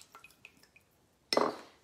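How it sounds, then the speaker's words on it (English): Liquid drained off a can of chicken breast splashes out in a short burst after a few small drips and clinks, close and fairly quiet. "So this is the canned chicken, and I am going to pour the juice off of that."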